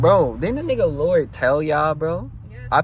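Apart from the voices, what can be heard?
None of the usual background noises is heard.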